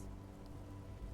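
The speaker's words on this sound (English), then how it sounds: "Rain." Rain falls in Midnight Suns as a faint, steady hiss of drops on surfaces with a low rumbling undertone, continuous and without talk.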